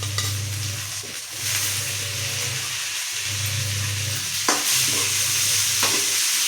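Chopped tomatoes and garlic sizzle steadily in a pan while a spoon stirs them in repeated scraping passes, close and continuous, with no one speaking.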